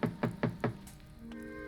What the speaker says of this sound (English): and I tapped on the door.